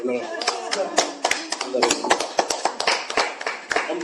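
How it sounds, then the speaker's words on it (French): Church congregation applauding a brother, a stretch of irregular, fairly close hand claps with voices talking over and between them. "Mais applaudissons pour le frère."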